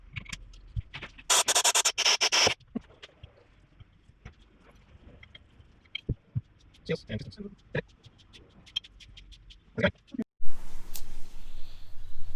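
Brake caliper pistons from the rear brake of a 1996 Suzuki GSX-R 750 SRAD track bike being scrubbed clean: a short burst of close scrubbing, then scattered clicks, taps and scraping handling noises in a quiet workshop.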